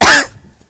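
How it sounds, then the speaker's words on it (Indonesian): Someone in the audience at an Indonesian religious lecture gives one loud, close cough, then it fades quickly into faint background noise. "sampai batuk tuh"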